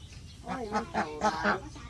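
Several nasal, honking duck quacks come in a quick irregular series, fairly close and clear against a quiet background.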